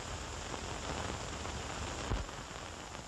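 Steady rain falls outside on a stormy night, a dense continuous hiss with no one speaking over it and a single brief dull thump partway through.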